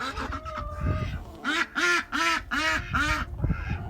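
Several ducks quack loudly in a run of five or six harsh, evenly spaced calls near a makeshift duck house in freezing winter weather, with fainter squawks before and after.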